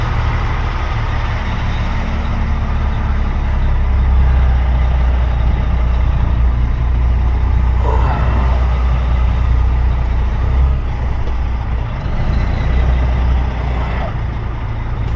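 Heavy truck engine rumbling steadily at low speed while reversing into a driveway, loud and close throughout, with faint hissing and mechanical clunks partway through and no talk.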